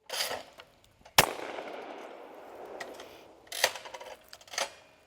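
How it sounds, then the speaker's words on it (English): A CZ All-American trap and sporting clays shotgun fires on a range: a sharp close blast with a ringing decay, then further loud reports and a distant shot, with no talking. "Ladies and gentlemen, this is the CZ All-American. This is a trap or sporting clay shotgun."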